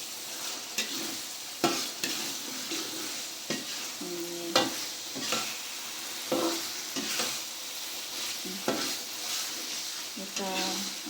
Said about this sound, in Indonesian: Nah kita aduk-aduk.